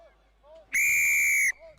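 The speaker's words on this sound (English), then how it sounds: "That's the whistle for the last 35 minutes." A referee's whistle blows once, a single shrill, steady blast of about a second at a schools rugby league match between D.S. Senanayake College and St. Anthony's College, loud over faint crowd ambience.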